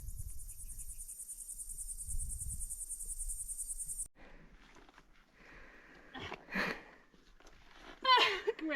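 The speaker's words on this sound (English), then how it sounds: "I suspect this noise is a cricket or a grasshopper," A cricket or grasshopper trills very loudly and close on the Pacific Crest Trail, a steady high-pitched buzz lasting about four seconds before stopping, followed by quieter rustling and breathing sounds.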